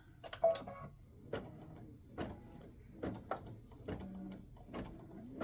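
An embroidery machine stitching a yellow rose clatters quietly in a steady rhythm of short mechanical ticks and needle thumps, repeating roughly every second with faint whirring between strokes.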